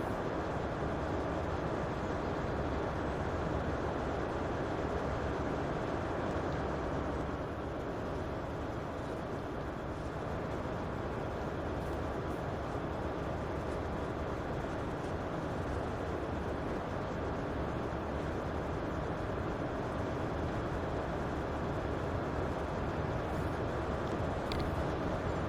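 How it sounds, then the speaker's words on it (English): Steady rumbling drone of an approaching HST train in Train Sim World 2020, a broad continuous roar holding at even loudness with no clear change in distance. "because this train is now heading our way"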